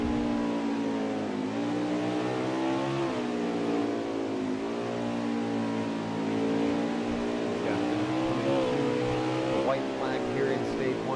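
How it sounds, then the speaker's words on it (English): An Xfinity race car in a racing video game at Mid Ohio runs at high revs, its engine note climbing and falling through gear changes and corners, loud and continuous beneath a commentator's voice. "Love to hear the sound of that engine there."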